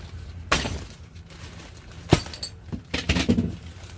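A glass jar holding a chili pepper plant is broken open in several sharp, close shattering cracks with clinking fragments, spaced out across the stretch with quiet pauses between.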